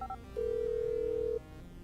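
Phone dialing in Grand Theft Auto V: a brief double blip of dial tones, then a single steady electronic ringing tone held for about a second before cutting off, fairly clear over quiet game background.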